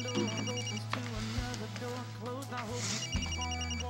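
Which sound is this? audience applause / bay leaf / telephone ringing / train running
telephone ringing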